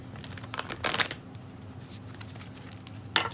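Tarot cards from the Kim Krantz archetype deck being handled and shuffled in a quiet room, with a soft flurry of riffling bursts followed later by one short card snap.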